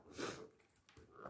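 A person with flu sniffs hard after putting in nasal drops, making a couple of short, close, snorting sniffs with a brief pause between them.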